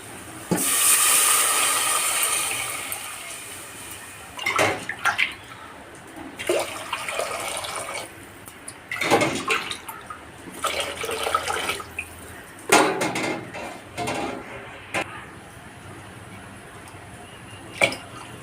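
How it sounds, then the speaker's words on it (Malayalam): Water is poured into a cooking pot while making a virinji rice dish, giving a steady rush for about two seconds. Scattered clinks, knocks and short splashes follow nearby. "ഇതിലേക്ക് വെള്ളം ഒഴിച്ചു കൊടുക്കാം കേട്ടോ"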